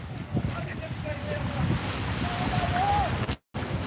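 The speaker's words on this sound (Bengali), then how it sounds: "তারা এখান থেকে নৌকায় পারাপার করছেন মানুষ" A boat ferries people across floodwater covering the Sylhet–Sunamganj road. Wind buffets the microphone over a wash of water, with a faint whining tone and a brief dropout near the end.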